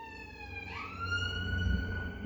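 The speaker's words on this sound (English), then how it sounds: "The siren coming past." An emergency vehicle's siren wails as it passes outside, its steady tone rising in pitch partway through over a low traffic rumble, sounding moderately distant.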